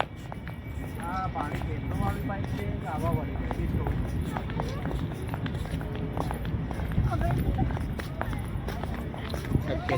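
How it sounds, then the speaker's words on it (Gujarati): A train runs past along a riverfront with a steady, close rumbling roar and rapid rattling clatter, while people talk over it. "ટ્રેનનો અવાજ છે."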